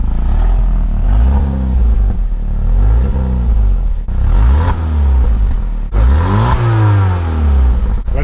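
A Saturn Sky with its active exhaust valve closed revs several times, loud close engine rises and falls with a deep muffled rumble between throttle blips.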